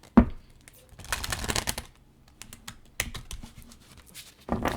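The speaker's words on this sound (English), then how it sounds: "Give it a couple of shuffles." A deck of tarot or oracle cards shuffled by hand during a card reading, a few separate riffling bursts with short pauses between them, close and clear.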